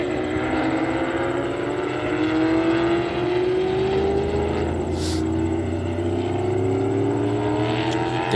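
Porsche race cars at an SCCA race produce a continuous engine drone whose pitch climbs slowly as they accelerate, heard from a moderate distance over steady background noise.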